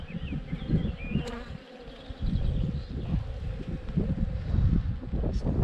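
A close, continuous hum of many honey bees buzzing at an opened hive during inspection, with light wind rumble and a brief dip partway through.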